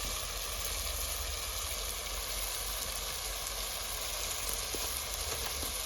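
Cumin seeds sizzling in hot oil on a stove while cooking malai chili paneer, a steady loud frying hiss that holds unbroken from start to end, with no talking.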